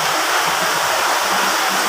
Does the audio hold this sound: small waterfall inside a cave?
yes